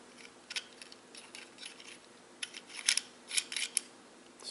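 An Allen nut being screwed onto a bushing of a LedgeGrip Gen 2 Raptor ambidextrous thumb lug kit, quiet close metallic clicks and scrapes in short irregular bursts, with no talking.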